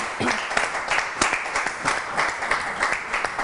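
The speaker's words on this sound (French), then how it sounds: "Non mais encouragez-les, hein, applaudissements." An audience applauds at a French stage event, the clapping dense and steady for a few seconds with no voices over it.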